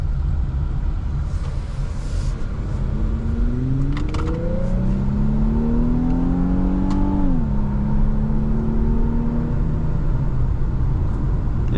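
A 2024 Infiniti Q50 Luxe accelerating from inside the cabin, its engine note climbing steadily through the gears with a shift partway through, over constant road and wind rumble; no talking.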